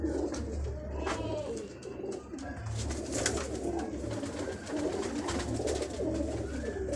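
A golden breeder pair of pigeons in Faisalabad coos close by, repeated soft throaty rolling calls over a low steady background hum, with a few faint chirps in between.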